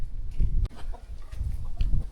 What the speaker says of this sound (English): So that's our frizzle cockerel.